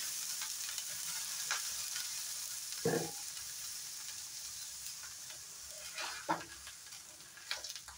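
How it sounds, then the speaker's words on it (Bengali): Water splashed onto a hot iron tawa gives a soft background hiss with a few sharp sizzle bursts, followed by quiet wiping of the pan surface, faint and close, without speech. "এখন একটু জল ছিটা দিয়ে মুছে নেব ভালো করে।"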